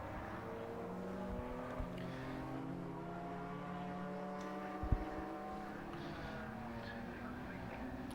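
Race cars at the Brands Hatch circuit drone past with sweeping, rising and falling engine tones under steady crowd-level noise, one sharp knock partway through.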